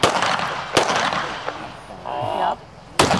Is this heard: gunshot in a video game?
yes